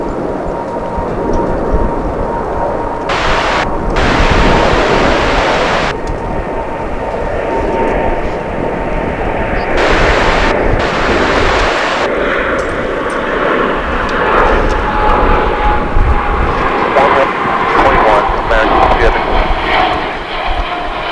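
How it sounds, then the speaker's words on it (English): Airliner arriving from Tokyo at DFW International Airport aborts its landing and goes around, its jet engine roar loud and sustained throughout, with people talking over it. "So the flight from Tokyo. Not landing. It's going to try again."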